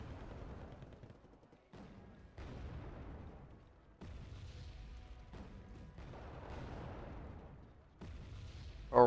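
Recoilless rifles and artillery firing in the video game Wargame Red Dragon: a series of separate booming shots, roughly every two seconds, each trailing off into a long rumbling decay, with a sharper blast at the very end.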